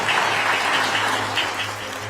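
An audience claps steadily at the Jeju 4.3 memorial ceremony, dense sustained applause filling the space at an even level throughout.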